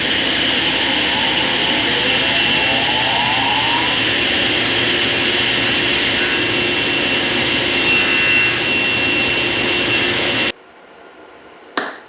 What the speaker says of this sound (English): That's why it's so good to have a tablesaw sled.